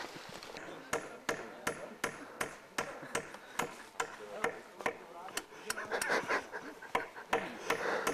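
A heavier hammer striking repeatedly, sharp metallic clangs in a fairly regular rhythm of about one blow per second, loud and close, with voices murmuring in the background between blows.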